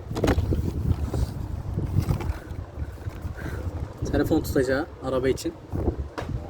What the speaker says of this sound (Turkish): Hava esiyor, rüzgar sesi geliyor olabilir.